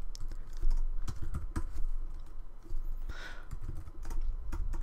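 Rapid, uneven clatter of computer keyboard keys as code is typed, close and steady with brief pauses and no talking.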